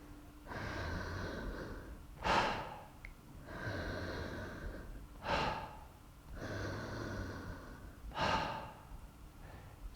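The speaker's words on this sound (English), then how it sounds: "Bring that breath all the way up through the ribs, through the heart, all the way up to the top. Let it go with a nice soft exhalation." Deep rhythmic breathing during a breathwork exercise: three long, drawn-out inhale and exhale cycles, each ending in a sharper, louder rush of air, heard close up with no talking.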